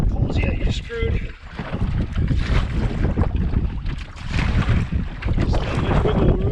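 Wind gusts roar steadily across a small fishing boat on open water while walleye fishing, with heavy buffeting noise on the microphone and a brief lull before it surges again; someone talks intermittently over it.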